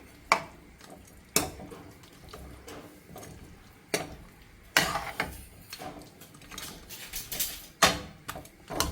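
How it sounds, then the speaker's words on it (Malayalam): Chicken is stirred into masala in a pan for butter chicken, with scraping spoon strokes and occasional sharp knocks against the pan, intermittent and fairly close, with no voices. "എല്ലാ ചിക്കനും അതിലിട്ടിട്ടുണ്ട്. നല്ലോണം നിരക്കി ചേർക്കാം."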